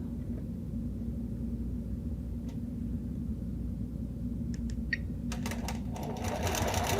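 Sewing machine stitching quilt binding on a quilting frame, a steady loud mechanical hum running throughout, with a few light clicks and rustles near the end and no talk.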